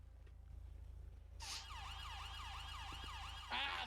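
Police siren in the game GTA V on a British police roleplay server kicks in after a quiet, humming start, wailing in rapid repeating sweeps, with a sharp burst near the end over a low engine drone.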